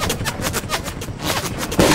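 Rapid gunfire from the Fortnite video game rattles in a fast, continuous burst of loud, dense shots.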